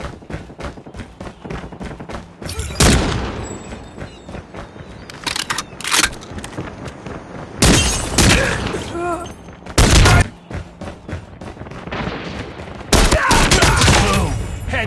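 Pistol gunfire in the mobile shooter COD Mobile, with sharp single shots and quick bursts scattered irregularly over several seconds, mixed with game sound effects and brief in-game voice callouts.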